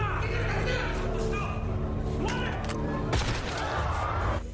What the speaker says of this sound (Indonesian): Tembakan pertama diarahkan ke Kim Jung